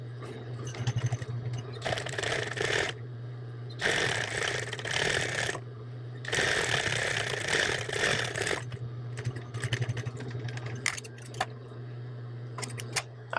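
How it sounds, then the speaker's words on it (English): An industrial sewing machine runs in several separate bursts while stitching and back-stitching the curved top edge of a hood for a frog hooded towel, each run a loud close buzzing hum with short quiet pauses and clicks between. "I am sewing on an industrial machine"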